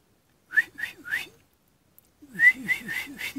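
A person in a dark cave attempts to whistle, producing two bursts of short, breathy whistle notes, three and then about five, with a silent gap between them and a faintly echoing, close quality.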